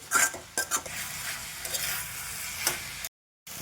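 Tomato chutney with crushed peanuts and coriander being stirred in a pan: a few sharp scraping and clinking strokes over a soft sizzle, close up, ending abruptly in a brief silence.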